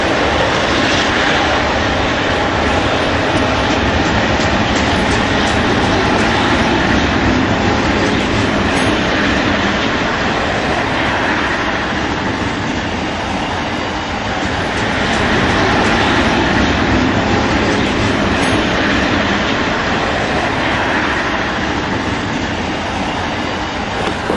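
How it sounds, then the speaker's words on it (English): Long freight train on Donner Pass near Colfax, with an F7 and three GP9 helper locomotives working mid-train, roars steadily and loudly throughout, a dense continuous rumble of diesel engines and rolling cars. "Providing help mid-train is an F7 and 3 GP9s."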